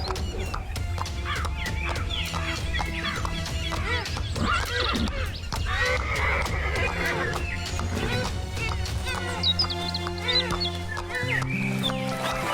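A king's horse neighs in a children's cartoon about a magic pond, a whinny with clip-clop hooves woven into a busy, loud musical score.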